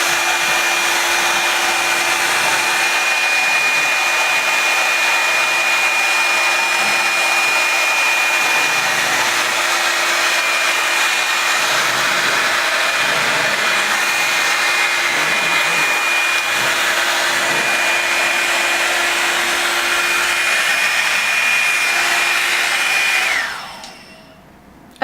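A Revlon One-Step hair dryer runs on its low setting, giving a steady, fairly loud whirring hiss with a thin high whine, unbroken for about 23 seconds before cutting off abruptly at the end.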